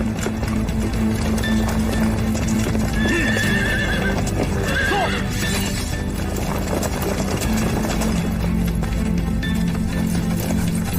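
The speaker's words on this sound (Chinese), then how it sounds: "马蹄声三响一轻" Horse hooves clip-clopping steadily and loudly throughout, with a horse neighing partway through, in a fantasy wuxia drama scene; no talk over it.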